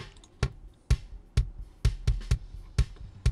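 Heavily compressed, EQ'd kick drum in a mix with a flubby low end, hitting about eight times in an uneven pattern, each thump loud and punchy with a short decay.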